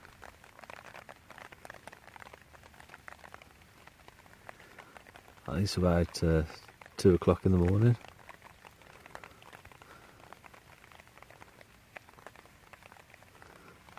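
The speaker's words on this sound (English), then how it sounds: "It's raining." Steady light rain patters on a tent during a night-time wild camp, a soft continuous hiss with a voice speaking briefly partway through.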